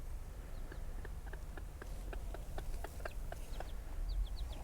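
A mother hen and her chicks scratch around a backyard compost heap, giving a steady run of short, high cheeps, close and moderately loud, over a constant low outdoor rumble.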